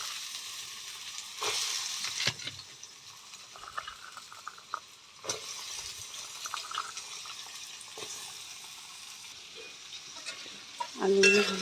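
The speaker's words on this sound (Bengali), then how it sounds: "তেলটা গরম হয়ে গেছে, কেটে ধুয়ে রাখা আলুগুলো লাল লাল করে ভেজে নেব।" Cut, washed potatoes drop into hot oil and fry with a bubbling sizzle. Stirring scrapes and clatter come in bursts, and a brief sharp clink sounds near the end.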